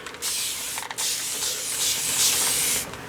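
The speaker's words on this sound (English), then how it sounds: "And spray." Distress ink spray bottle misting onto paper for gel printing, several hissing spray bursts in close succession, near and fairly loud, with no talking.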